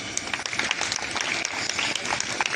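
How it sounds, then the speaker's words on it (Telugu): An audience claps at a college fresher's day in a government women's degree college, a faint, fairly distant patter of applause lasting a couple of seconds. "give a good claps"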